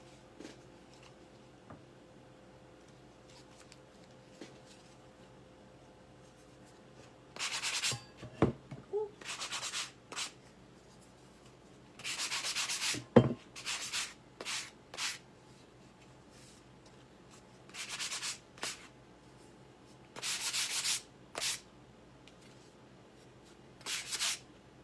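Hand sanding, heard as several short bursts of close, quiet rasping strokes separated by pauses and light handling noises.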